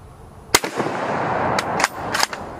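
A single sharp report from a 7.35 Carcano rifle cracks out near and loud, followed by a few smaller clanks and knocks of rifle handling as the echo fades.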